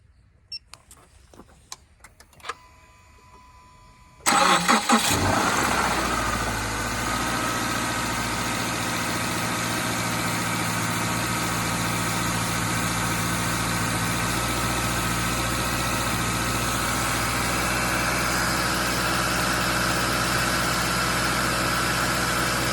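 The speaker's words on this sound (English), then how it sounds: "Let's fire up the vehicle." A car engine cold-starting at -30 degrees with a block heater, running on 0W-20 oil and a 675 cold cranking amp battery: a few quiet clicks, then a sudden catch into a loud, steady, droning idle that continues unchanged.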